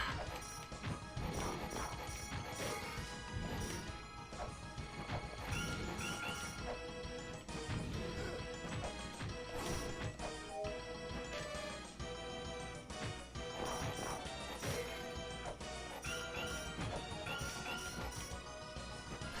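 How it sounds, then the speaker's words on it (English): Repeated loud crashing and smashing bursts of bricks breaking in the game La-Mulana over busy, dense game music, one impact after another throughout, with no voices. "you are hitting brick that is breaking noise"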